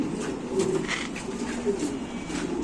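Pigeons at a pigeon farm coo in a low, steady murmur, several birds overlapping close by with soft rhythmic calls over a constant background of flock noise.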